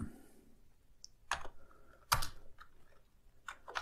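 Keys on an Amiga 600 computer keyboard clatter in a few short bursts of quick, close taps separated by brief pauses, set against a quiet room.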